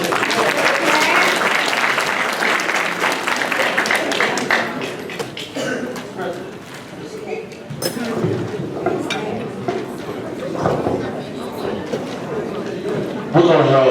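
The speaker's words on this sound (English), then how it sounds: "Let's give a round of applause again." A banquet audience at a high school event applauds loudly at first, then the clapping thins into scattered claps, clinking dishes and crowd chatter.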